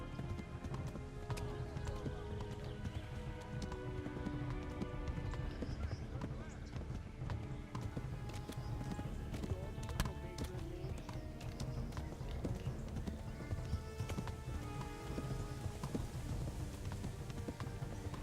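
A horse galloping in the Kingdom Come: Deliverance video game, steady rapid hoofbeats drumming continuously through the whole stretch under game music and someone talking.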